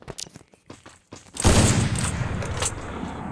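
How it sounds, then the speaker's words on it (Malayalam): Sniper rifle fire in a video game: a sharp, loud shot bursts out after a couple of seconds of faint clicks and taps, then rings into a long, dense rumbling tail. "നമുക്ക് സ്നൈപ്പർ വെച്ച് കളിച്ചിരിക്കാമല്ലോ."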